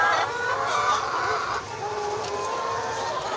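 Chickens sick with enteritis cluck nearby, their short throaty calls repeating over a steady background hiss.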